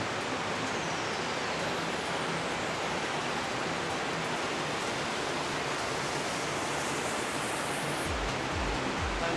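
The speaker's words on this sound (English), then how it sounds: "We found the waterfall, guys." Loud, constant roar of a waterfall heard from close by, a dense broadband rush of falling water that stays steady and unbroken, with no voices.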